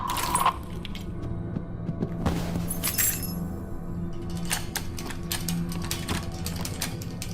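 Metal keys jangling in a puzzle-lock game setting, a bright clinking rattle at the start followed by scattered light metallic jingles and clicks, close and moderately loud without talk.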